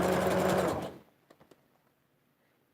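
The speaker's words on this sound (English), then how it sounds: "So I'm going to back stitch, and let's stitch" Sewing machine stitching wig material, a loud steady mechanical whir for about a second that stops abruptly, followed by a few faint clicks and near silence.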